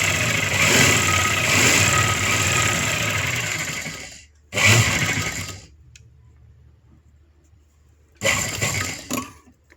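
A sewing machine runs steadily for about four seconds while topstitching a blouse button placket, then starts again in two short bursts after pauses, loud and close with no talking.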